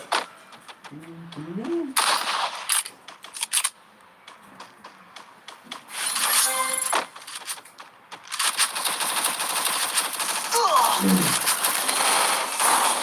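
Counter-Strike gunfire crackles in rapid bursts and scattered single shots, mixed with metallic clicks and game effects, while players shout and talk over it.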